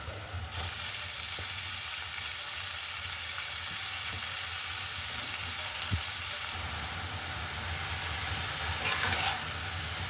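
Potatoes frying in a pan give a loud, continuous hiss and crackle close up, with the bright sizzle dropping briefly near the start and again partway through before it returns.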